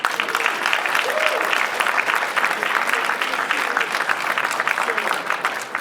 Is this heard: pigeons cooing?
no